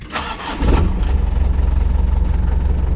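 A Land Rover Perentie diesel engine with a reconditioned 24-volt alternator cranks briefly and then catches, settling into a loud, steady, rapidly pulsing idle close to the microphone.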